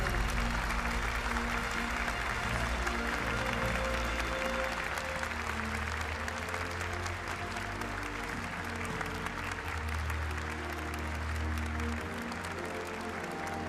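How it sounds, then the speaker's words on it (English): Steady crowd applause for the third-place team at the GT World Series World Finals Manufacturers Cup, filling the whole stretch, dense and even, with a low rumble and some music-like tones beneath it. "A huge round of applause here for the third place team"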